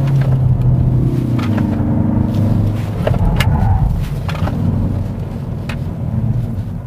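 A Hyundai high-performance car pulls away on the Inje circuit at around 50 km/h, its engine giving a steady low rumble heard from inside the cabin, with faint clicks and knocks above it.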